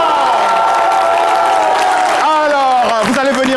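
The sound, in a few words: audience applauding for the women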